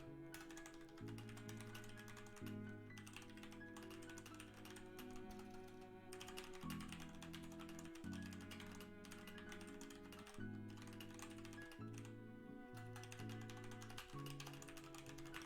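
Keys clatter in quick irregular bursts on a computer keyboard, close but quiet, with a soft musical backing underneath and no one speaking.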